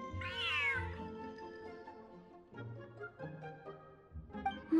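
A large cat in the video game Genshin Impact gives a clear, high rising-and-falling meow at close range, then several softer mewing and chirping calls with pauses between them.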